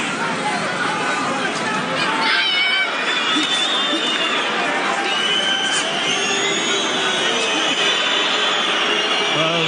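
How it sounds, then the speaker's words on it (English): A large arena crowd at a Floyd Mayweather versus Marcos Maidana boxing match keeps up a loud, dense roar of booing and shouting, with a commentator talking over it. "the boos of the crowd are for Floyd Mayweather."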